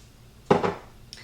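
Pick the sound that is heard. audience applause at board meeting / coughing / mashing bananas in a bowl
mashing bananas in a bowl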